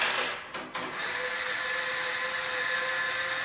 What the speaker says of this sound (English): I've got my electric screwdriver just because it's easier.